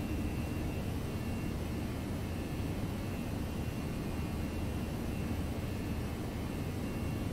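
Jet engine roar of an Air Senegal Airbus A319 at takeoff power during the climb after departure, a steady broadband rush heard from inside the cabin, continuous and even throughout with no talk.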